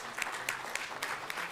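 An audience at a Scout assembly gives a short burst of clapping, several claps in quick succession.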